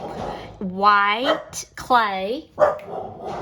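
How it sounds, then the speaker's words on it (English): Dogs barking nearby indoors during a craft session with white modeling clay, two long whining barks plus a shorter yip, loud against someone talking quietly. "I apologize for the dogs."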